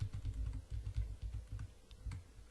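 Arrow keys on a computer keyboard are tapped in a quick series of soft, muffled clicks, about a dozen presses at uneven intervals, close and quiet with no talking.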